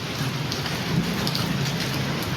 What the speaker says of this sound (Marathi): या अशा पावसात निघू भिजत भिजत?